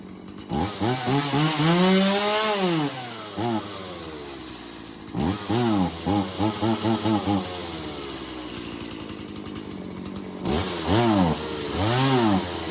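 A Stihl MS 180c chainsaw revving in three separate bursts, the engine rising and falling in pitch with idle gaps between, loud and close.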